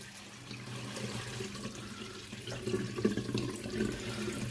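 Water runs and splashes through the condenser of a Hotpoint tumble dryer being flushed out during a service, a continuous gushing wash that grows louder and more turbulent in the second half.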